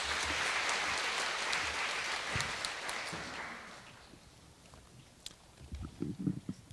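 Indoor audience at a formal event clapping to welcome a speaker to the stage, dense applause that is strong at first, then thins and fades into a few scattered claps and shuffling.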